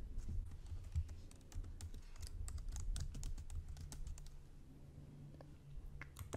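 A password is typed on a computer keyboard, a run of quick, light key clicks in an irregular rhythm, close and fairly soft over a low background hum.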